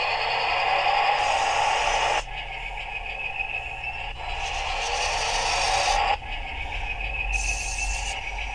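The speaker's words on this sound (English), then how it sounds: "The sound's generated by the sender unit, by the remote control unit, not by the tank." A handheld remote control unit for a 1/72 scale Type 10 tank plays electronic engine and motor sound effects in repeating blocks that shift in character every few seconds, steady and fairly loud with no talking.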